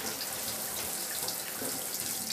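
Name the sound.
shower water running while washing a cat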